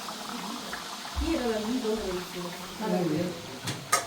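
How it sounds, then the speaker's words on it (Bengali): Chicken roast, part of a sixty-piece batch, bubbles and simmers in a large kadai wok, a soft boiling sound running under a person talking throughout. "এদিক দিয়ে রোস্ট রান্নার কাজ চলছে মাত্র বসানো হয়েছে"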